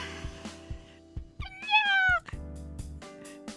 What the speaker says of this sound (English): Extermination of the noisy cat has been completed.